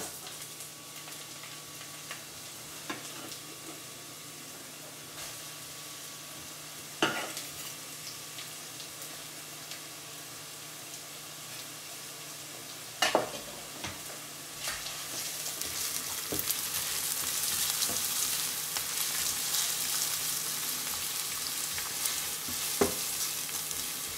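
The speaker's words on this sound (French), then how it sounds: "Une fois que l'oignon est émincé, vous le mettez à revenir." Sliced onion frying in a pan for a Sri Lankan shrimp curry: a steady sizzle that builds louder over time, broken by occasional clatters of stirring, with no talking.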